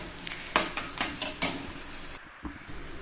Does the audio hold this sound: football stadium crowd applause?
no